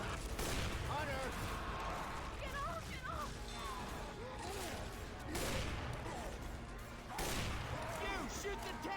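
Gunfire in the game Left 4 Dead 2 crackles in bursts amid crashes and thuds, with the clattering volleys returning at intervals against a busy, chaotic background of game noise.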